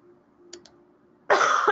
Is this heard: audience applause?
no